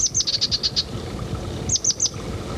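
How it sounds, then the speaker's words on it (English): A chestnut-backed chickadee with a brown cap gives husky, buzzy chickadee calls: a rapid burst of six or seven wheezy notes, a pause, then three more, close and clear over faint background noise. "Its voice is a husky version of the familiar chickadee call."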